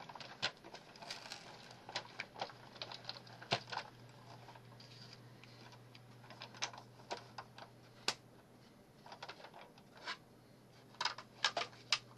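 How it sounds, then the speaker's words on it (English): Scissors snipping a paper flower petal: sharp, irregular close-up clicks of the blades over a quiet room with a faint steady hum. "from this petal I will cut smaller"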